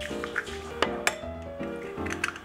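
A spoon clinks and taps against a bowl while pancake batter of powder, milk and egg is mixed, a few sharp close clinks over soft scraping and stirring.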